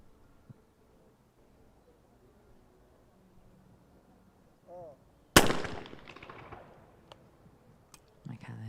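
A shotgun fires at clay targets during a men's trap shooting final at an ISSF World Cup in Egypt, with one sharp loud blast mid-clip ringing out, then faint bursts and quiet surroundings.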